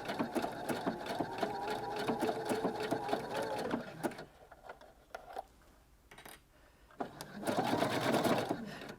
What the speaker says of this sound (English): I can just adjust the stitch width down and see what difference that makes